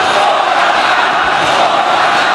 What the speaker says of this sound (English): the crowd coming alive for Mascara Dorada